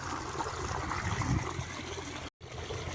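Water rushing through a farm irrigation channel during rice planting work, a steady close broadband gush with a brief cut near the end.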